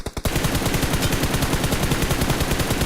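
Rapid automatic gunfire from the mobile battle royale game BGMI rattles in a fast, steady burst lasting nearly three seconds after a couple of brief opening shots, loud and close.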